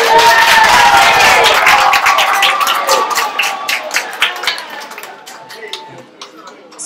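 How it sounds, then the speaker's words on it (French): An audience at an Ivorian independence celebration in Brussels applauds a traditional outfit show, with loud dense clapping and cheers that gradually thin out into scattered claps. "C'est pas facile, il faut l'applaudir encore une fois"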